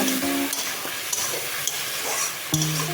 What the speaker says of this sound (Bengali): দিয়ে দেবো 1 চামচ হলুদ। ভালো করে কষিয়ে নেব।